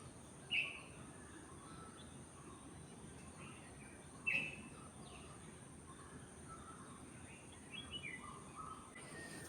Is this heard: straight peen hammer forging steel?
no